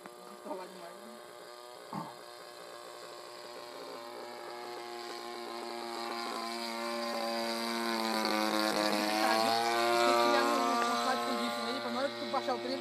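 A T6 radio-controlled model airplane with a 30cc gas engine flies overhead, its buzzing engine whine rising and falling in pitch as it passes, moderately distant, with people talking nearby.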